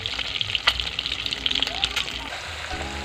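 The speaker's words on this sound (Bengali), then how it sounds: "ডিমের কারির জন্য ডিমটা ভেজে নিচ্ছি" An egg sizzles in a pan, fried lightly for a Bengali egg curry on a home stove, with steady crackling hiss and occasional sharper pops throughout.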